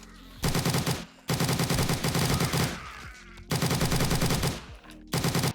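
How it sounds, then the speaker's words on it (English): A 5.56 assault rifle from a weapons mod for the video game 7 Days To Die fires loud sustained bursts of rapid automatic fire. Three long strings are split by short silent pauses. "It looks great, sounds great"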